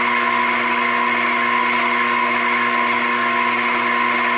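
Grizzly mini lathe spinning near its top speed of about 1,956 RPM during a break-in run, a steady loud motor whine with strong humming tones holding constant throughout, no talk.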